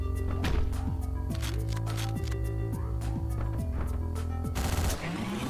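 Gunfire in the video game Hotline Miami, rapid shots snapping over a loud, pulsing synth music track, with several quick bursts close together.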